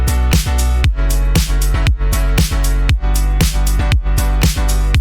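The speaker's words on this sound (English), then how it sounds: "when I add the drums to the rest of the instruments, it sounds like this" Drums join a full electronic arrangement in a pop song cover, steady kick hits with pitch-dropping bass tones repeating about twice per second under sustained chords, loud and close throughout.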